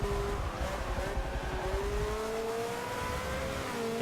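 A V8 Supercars race car screams past at speed during a sprint race, a sustained high engine note rising in pitch over rumbling track noise, loud and continuous.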